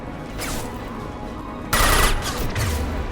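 Pistol gunfire in the Mass Effect 2 video game during a combat mission: a few sharp cracks, then a louder cluster of shots and impacts mid-clip, over steady battle ambience.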